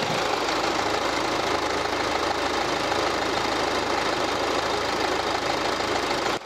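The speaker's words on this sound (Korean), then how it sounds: "바로 저와 함께 엔진음 한번 체크해 보도록 하겠습니다" A Kia Sportage R SUV engine runs steadily at idle, a constant close rumble with a faint knocking texture and no voices, cutting off at the end.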